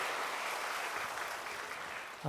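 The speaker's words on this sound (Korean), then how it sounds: "우리 다시 한번 크게 박수하겠습니다" A church congregation claps together in sustained, even applause during a Sunday service, holding steady for a couple of seconds.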